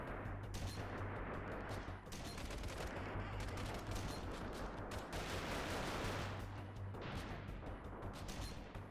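Faint, continuous small-arms gunfire in Freeman Guerrilla Warfare on PC, a distant crackling fusillade of overlapping shots with a steady background hum throughout.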